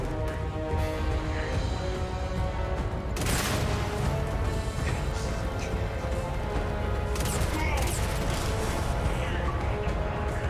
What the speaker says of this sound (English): He's throwing grenades at everybody